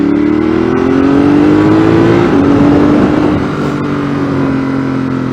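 A car accelerates hard along Snake Pass, its engine droning loud and close, the pitch climbing steadily and then briefly dropping at a gear change before rising again, with road and wind noise beneath it.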